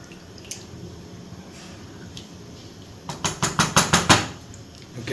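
Watery parotta salna gravy simmers in a pot, a low bubbling hiss that breaks into a quick run of about seven wet, popping bubbles close by.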